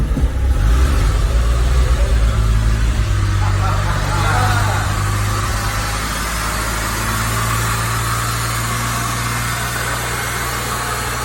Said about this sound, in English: First time turning the key and cranking it in 40 years.